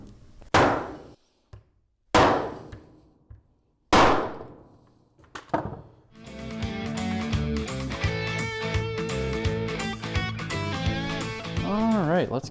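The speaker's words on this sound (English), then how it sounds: "We'll just hammer it on here." Three sharp metallic hammer strikes ring out with pauses between as a terminal is hammered onto a battery cable, followed by clattering tonal noise and faint background sounds.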